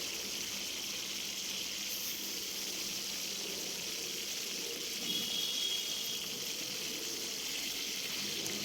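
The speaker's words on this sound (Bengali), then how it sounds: "প্রথমে কড়াইয়ে তেল দিয়ে তেলটাকে গরম করে মাছগুলো একে একে আমি এর মধ্যে দিয়ে দিলাম" Pomfret fish fry in hot oil in a wok, giving a steady, even sizzling hiss that runs unbroken at moderate loudness with no talking.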